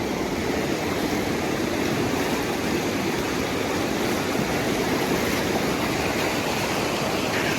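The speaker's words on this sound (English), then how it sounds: "So over there is where I crossed the river" Cold river water rushes in a constant, close, loud wash as someone wades across, a steady roar without distinct pauses and no speech.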